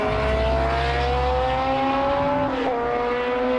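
Historic race cars, a Surtees followed by two McLarens, roar past at Donington during a historic racing festival; a loud, continuous engine note with a falling pitch as they pass close by, no talk.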